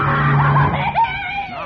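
A woman in a 1949 radio drama lets out a loud, sustained shriek, close and piercing, wavering in pitch before trailing off.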